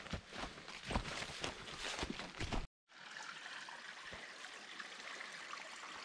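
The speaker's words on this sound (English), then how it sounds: "now it's a really good flowing creek" A flowing creek near the headwaters on a mountain hiking trail rushes and trickles steadily, loud and close at first, then continues more softly after a brief cut, with no voices.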